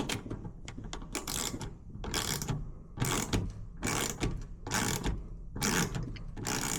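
Ratchet wrench tightening the ignition coil terminal nut on a 1966 Pontiac GTO, heard as repeated bursts of rapid metallic clicking, about eight close strokes in steady rhythm with short pauses between.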